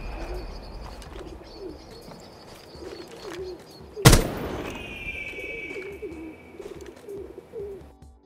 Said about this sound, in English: we're going to hear the very clear eagle dive sound effect from the game